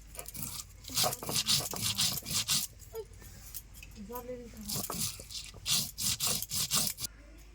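Coriander is ground on a grinding stone with rhythmic rough rubbing and scraping strokes, fairly close. A voice speaks briefly between the passes.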